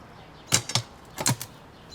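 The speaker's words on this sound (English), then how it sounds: "And there was another funny noise, like a clang." A metal spade digs into field soil in two quick pairs of sharp scraping, clinking strikes, close and moderately loud against a quiet background.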